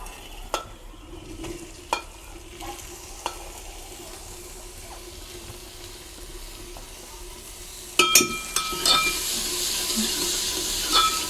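Onions frying in a pan for a dhaba-style black chana curry, stirred with a spoon: sparse clicks and scrapes over a low sizzle, then a sharp clatter and a louder, sustained frying hiss toward the end.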